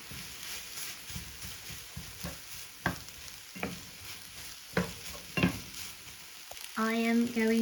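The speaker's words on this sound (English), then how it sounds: "So these can be added straight to the wok and they cook in 2 minutes" Noodles stir-fried in a wok, a soft continuous sizzle with repeated sharp scraping and tossing strokes at an irregular rhythm, ending in a louder burst of sound.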